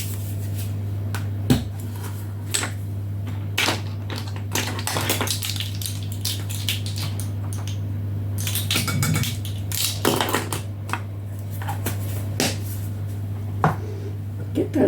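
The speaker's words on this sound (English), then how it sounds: "Get those all whisked in together." Dry ingredients for a gluten-free banana bread, including xanthan gum, whisked together in a bowl: quick, irregular metallic scraping and clinking strokes over a steady low kitchen hum, close by and fairly quiet.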